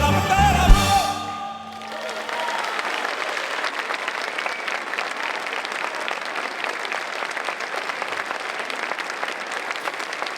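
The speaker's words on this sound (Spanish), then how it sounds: "Aplauso para esta fantástica banda" Audience applause for a conservatory professional music band after a tribute song, rising from the end of the music into steady, dense clapping that continues loud and even for about ten seconds.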